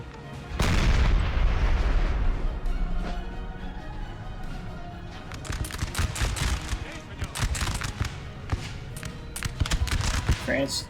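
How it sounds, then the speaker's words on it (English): Artillery fire in Napoleon: Total War during a mountain battle: a big near cannon boom opens, followed by a scatter of sharp distant and mid-range shots and volleys crackling over rumbling battle ambience, with a voice talking over it. "We've got the artillery though, from the Peninsula Coalition"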